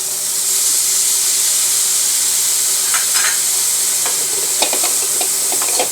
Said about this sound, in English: While continuing sauteing it.